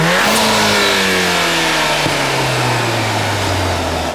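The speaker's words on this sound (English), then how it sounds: "We can give it a little rev, I haven't heard it on camera." A car engine breathing through an all-carbon-fiber intake with a large air filter revs up loudly and close by, holding a steady high drone that slowly sags in pitch over several seconds.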